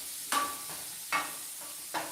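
Leftover steak reheated in a pan: a steady sizzle and hiss with three scraping stirs or turns spaced about a second apart, close and alone with no talk.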